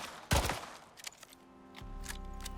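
CHAC 6-round pistol reloading in the survival game Icarus, with a sharp report at the start followed by quieter mechanical clicks and a low hum building in the background, no speech.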